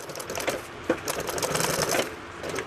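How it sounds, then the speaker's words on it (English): A sewing machine stitching down a line on Piper plane seat upholstery, a steady fast whirring chatter running continuously and close, with no talking. "Sew this thing down the line."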